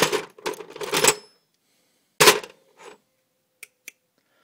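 A Harbor Freight tool box drawer holding screwdrivers is slid open inside a caravan, giving bursts of clattering metal tool rattles, then a few sharp isolated clicks with quiet gaps between.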